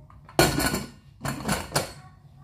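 A metal lid is set on a pot of biryani, giving a loud clattering bang followed by rattling, then a second burst of clanks as it settles, close up with no talk.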